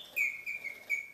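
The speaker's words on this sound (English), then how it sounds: "Mechanical bird cages, it's clockmaking," A mechanical bird cage from clockmaking work chirps in three or four bright, whistled tweets, close and clear, with brief gaps between them over a quiet room.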